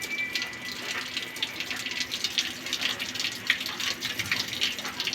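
Coolant water drains steadily from a car radiator cooling system during a cleaning, a continuous close splashing gush with no pauses and no talking.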